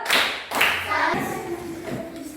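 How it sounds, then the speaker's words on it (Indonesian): Students in a classroom clap in short bursts, a few quick rounds of hand claps close by with light taps and thuds, fading into softer scattered claps. "Beri aplaus atau tepukan salut untuk kalian semua"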